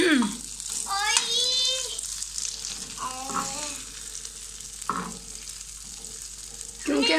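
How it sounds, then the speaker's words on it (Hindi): Salan, a curry, heats in a pot on a household stove, giving a soft sizzle and occasional stirring clinks beneath several bursts of nearby voices. "हम चूल्हे पे इस तरह गरम कर लेते होते हैं सालन"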